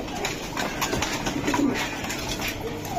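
A racing pigeon coos, with soft low repeated calls over a busy background of other birds and faint ambient noise.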